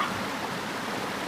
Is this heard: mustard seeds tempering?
no